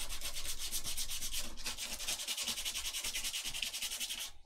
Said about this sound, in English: I've been sanding the back a little bit as well to make it rougher for the glue